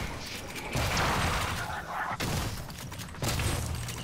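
Shotgun fire in the video game Prey, heavy blasts in a dense, noisy combat mix of mechanical clatter and rumble, with a sharp break midway before the din resumes.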